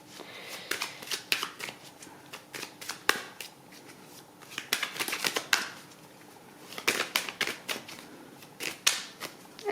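Tarot cards shuffled and cut by hand, producing bursts of close, crisp riffling and flicking in several rhythmic runs separated by brief pauses, with no voice.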